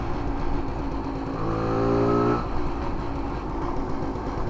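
A 1968 Montgomery Ward Riverside motorcycle engine runs steadily at low revs, a close continuous rumble that swells briefly in pitch and loudness midway before settling back to idle.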